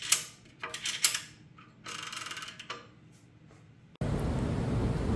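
The pawl on a Triminator Mini adjustment lock is moved aside, giving close, crisp ratcheting clicks and mechanical rattles in short bursts, followed by a sudden steady rush of noise.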